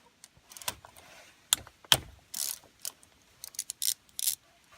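Ratchet with an 8mm socket backing bolts out of the front brake drum on a 2002 Honda Foreman Rubicon 500 ATV, giving short bursts of clicking at close range, separated by brief pauses, with no talk.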